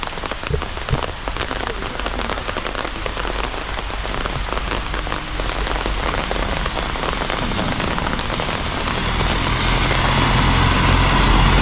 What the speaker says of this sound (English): The rain is falling. I'm now under umbrella